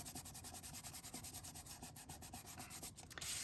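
Quick rhythmic rubbing strokes on the back of a glued fabric quilt block, a soft brisk swishing repeated steadily at close range.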